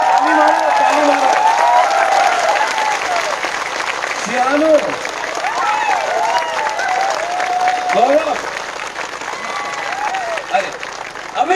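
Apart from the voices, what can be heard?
crowd clapping at a political rally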